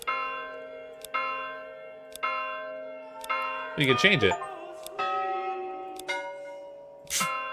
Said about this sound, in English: Church bell sounds.